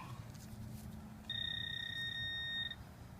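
A metal detector gives a sustained electronic tone of about one and a half seconds over a buried nail, sounding clearly above a low background hum outdoors.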